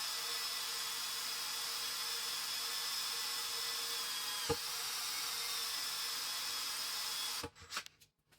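A steady high-pitched drill whines continuously as it bores into metal with cutting oil, ending with a few clunks and rattles as it stops.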